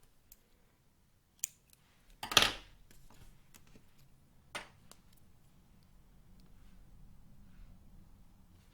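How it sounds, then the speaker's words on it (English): Scissors cut a piece of thread in a quiet room, giving a few faint, isolated clicks and one sharper, louder snip. "And cut a piece of thread."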